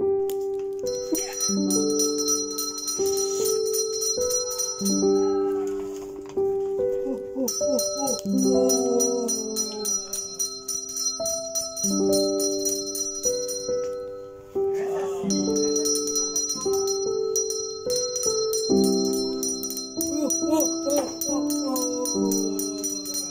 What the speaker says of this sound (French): Arrête la cloche